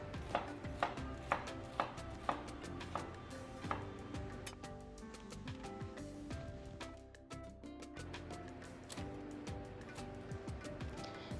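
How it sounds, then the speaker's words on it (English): A knife chops through an onion on a cutting board during stew meal prep, producing a steady run of sharp, evenly paced thuds, close and distinct, with a brief pause midway before the chopping resumes. "The other half I will be chopping shortly."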